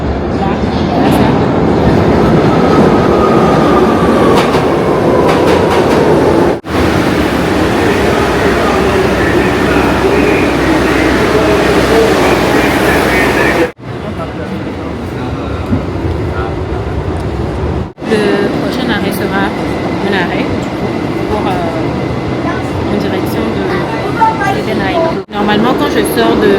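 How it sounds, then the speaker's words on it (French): A New York City subway train pulls into a station, a loud continuous rumble and rail roar with screeching overtones, broken by brief cuts, heard close by. "mon métro est en train de rentrer là"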